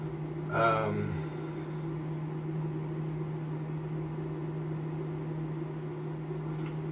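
A steady low mechanical hum drones continuously, like a microwave oven running, after a brief beep-like sound near the start.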